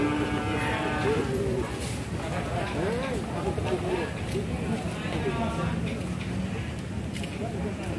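Young female water buffalo at a livestock market in Mayong, Jepara, lowing in drawn-out moos over a continuous crowd murmur and nearby voices, fairly loud and busy throughout.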